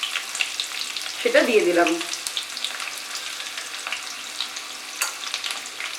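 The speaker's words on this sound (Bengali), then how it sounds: "পেঁয়াজটাকে মাঝারি আঁচে ফ্রাই করব। গোল্ডেন ব্রাউন হওয়া পর্যন্ত এটাকে ফ্রাই করব।" Chopped large onion hits hot oil in a pan over medium heat for chicken korma, giving a steady close sizzle with a brief louder burst as it goes in; a voice speaks briefly.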